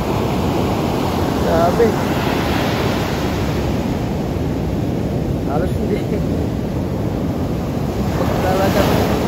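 Strong ocean surf pounds the beach at Pawikan Resort in Morong, Bataan as a loud, continuous roar of breaking waves with wind buffeting the microphone, and a few brief voices speak over it.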